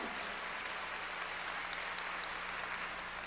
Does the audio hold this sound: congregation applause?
yes